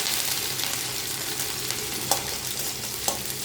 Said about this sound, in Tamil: இதெல்லாம் நல்லா எண்ணெயில் ஃப்ரை பண்ணிக்கங்க.